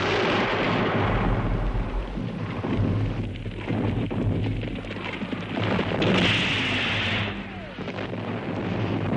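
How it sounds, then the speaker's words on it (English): Heavy World War I artillery rumbles in a long, continuous roar of deep booms, loud and sustained, with no voices over it. "The clamor of the guns continued."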